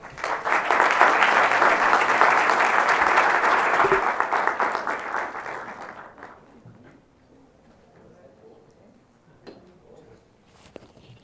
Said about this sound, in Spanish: Recibamos con un fuerte aplauso al doctor Justo Villafañe